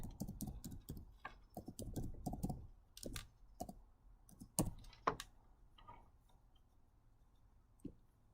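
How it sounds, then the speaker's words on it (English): Soft, close clicking of fingers typing on a computer keyboard in a quiet room. Keystrokes come in quick uneven bursts at first, then thin out to a few scattered taps. "Here, I'll type it in right here in the comment section."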